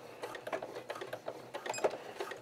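Sewing machine backstitching at the top of a welt pocket on a pair of slim pants, a quiet run of quick rhythmic needle taps and mechanical clicks, close and fairly soft, without talk.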